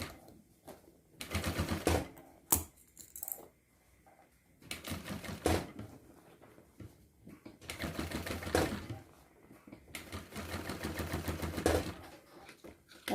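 Sewing machine stitching a retro university backpack in bursts of rapid mechanical chatter, several separate runs of a second or two each with quiet pauses between, close and clear.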